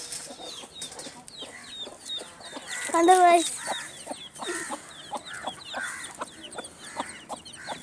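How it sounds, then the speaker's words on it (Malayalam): Five young chickens cluck and peep close by outdoors near their coop, with repeated short calls scattered throughout and a louder flurry in the middle, while a person talks over them. "ഇപ്പോൾ പുതിയ ഭാഗം ഉള്ളത് 5 കോഴിക്കുഞ്ഞുങ്ങളാണ്"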